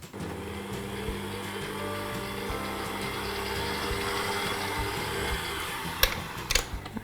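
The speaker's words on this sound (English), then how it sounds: "get that going on a medium speed and beat that until it's really well combined" A stand mixer runs steadily at medium speed, beating cookie dough with egg and vanilla, a continuous close motor whir with faint rattling, then a few knocks near the end.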